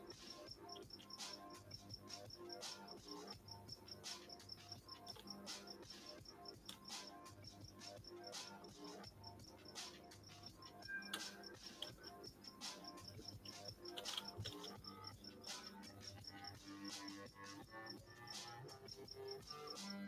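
A cricket chirps in a steady, rapid, evenly repeating pulse that runs throughout, set against a dense bed of background noise and other sounds, with no one speaking.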